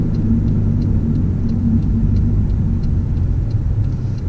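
Nissan Skyline cruising along side roads, a constant low engine rumble with road noise, plus a faint rhythmic ticking like a turn signal clicking throughout.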